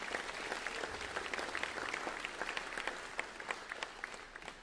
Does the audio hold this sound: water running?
no